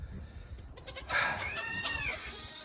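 Silkie chickens in a winter coop with roosting bars squawk and cluck excitedly, a burst of overlapping calls rising after a quieter start and continuing loud and close, with low rustling underneath.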